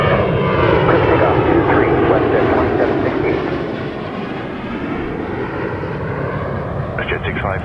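A WestJet airliner taking off from runway 23 at Toronto Pearson gives a loud, steady, broadband engine roar that fills the scene and eases slightly partway through, with a voice speaking over it.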